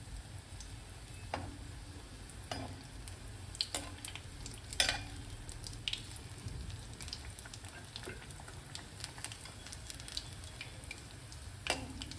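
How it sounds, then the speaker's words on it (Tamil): Karpooravalli (Indian borage) leaf bajji frying in hot oil, a steady soft sizzle with scattered faint crackles and pops close by, no voices. "இப்போ நெக்ஸ்ட்டு பார்த்தீங்கன்னா கற்பூரவள்ளி இலை பஜ்ஜி போட்டுடலாம்."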